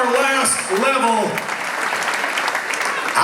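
A crowd at a breast cancer benefit concert applauds donors, with dense clapping running throughout. A voice speaks over the opening second.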